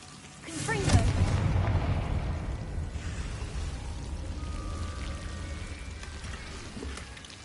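Confringo fire spell cast in the video game Hogwarts Legacy: a loud fiery burst with a booming low rumble that swells, then trails off into a crackling, lingering roar over several seconds.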